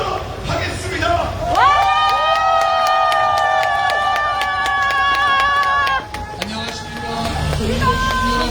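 Crowd clapping and cheering at an outdoor street-corner election rally as a Progressive Party speaker is welcomed, mixed with a loud sustained musical tone from a speaker system and scattered shouts.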